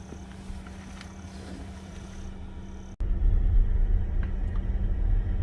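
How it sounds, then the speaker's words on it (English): A Tesla rolls along a dirt fire road through a Florida forest, a low steady rumble of tyres and cabin noise that jumps louder after a sharp knock midway, with no talking. "Alright, so we're just driving through the forest on the way out."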